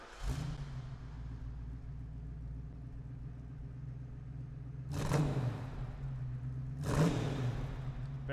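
Engine of a 1973 Ford Bronco halfcab, fully off-frame restored, idling with a steady low rumble, then revving twice in sharp bursts near the end.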